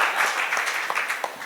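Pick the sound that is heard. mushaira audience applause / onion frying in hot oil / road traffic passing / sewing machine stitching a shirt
mushaira audience applause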